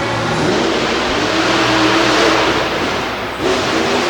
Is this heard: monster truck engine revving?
yes